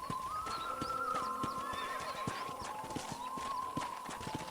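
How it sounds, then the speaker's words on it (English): A horse neighs and whinnies in the Western ranch setting of the video game Red Dead Redemption on PS3, the call clear over steady ambient game sound with faint hoof clip-clops and a few soft voices. "I picked out a fine horse for you."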